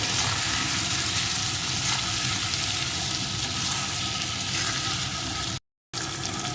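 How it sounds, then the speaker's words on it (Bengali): Taro frying with chilli powder, spices and salt for a hilsa fish curry, a steady close sizzle and crackle from the pan that runs almost without pause, broken by one brief silent gap near the end. "এখন বেশ কিছুক্ষণ ধরে এটাকে সব কিছু দিয়ে কষিয়ে নেব"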